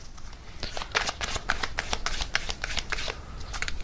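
Tarot cards shuffled by hand in a steady run of quick, crisp riffling flutters, close and moderately loud, continuing throughout with no voice.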